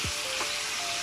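Tomatoes and herbs hit a pan of golden-brown frying onions, setting off a loud, steady sizzle with a few stirring scrapes, close and with no voices.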